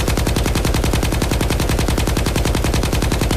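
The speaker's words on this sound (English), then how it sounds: "This is a kind of a standard issue general purpose machine gun from the Soviet era." A Soviet-era general purpose machine gun fires in S.T.A.L.K.E.R., a loud, steady, rapid automatic stream of shots that runs without pause for the whole stretch, close up and with no voices.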